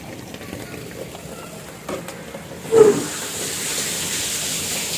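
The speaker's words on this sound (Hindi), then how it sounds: "भाप निकल रही है पानी में।" Water runs into a household water tank with steam rising off it, a steady, fairly loud hiss that surges briefly midway and then holds as a broad, continuous rush, with no talking.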